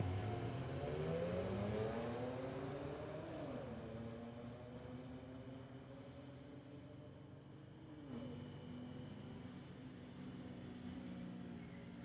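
At a drag strip, a BMW and a 2022 VW race, their engines roaring loudly at first, then a long sustained whine of revving and upshifting that fades slightly into the distance, with no talk.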